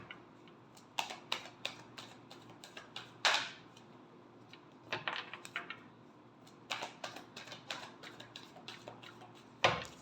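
Tarot cards are shuffled and handled in sharp, irregular clusters of quiet crisp flicks and taps, close by, with pauses in between and no talking.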